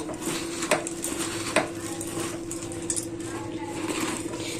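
Bhel puri is stirred with a stick inside a tall container, street-style, giving continuous scraping and clinking with a few sharper knocks, close and moderately loud over a steady background hum.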